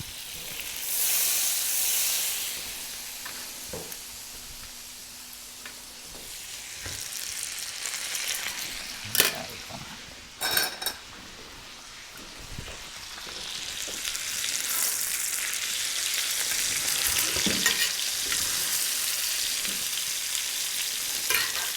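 A lamb rack sizzles and hisses loudly as it roasts in a hot buttered pan, the steady frying swelling and easing, broken by a few sharp knocks of the pan or utensils.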